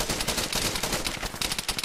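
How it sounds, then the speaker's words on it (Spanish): Gunfire in the video game Argo rattles in a fast, unbroken stream of loud automatic shots, close and dense from start to finish. "Yo le disparé primero"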